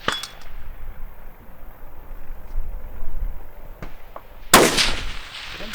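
At a precision rifle match on a Texas ranch, a rifle shot sounds out near the end, a sharp loud crack over faint outdoor background with a few small distant knocks before it.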